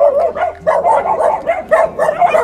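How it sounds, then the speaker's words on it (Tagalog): Several dogs bark in a steady, overlapping chorus, loud and close, with repeated rhythmic yaps that barely pause. "Sobrang dami ng aso."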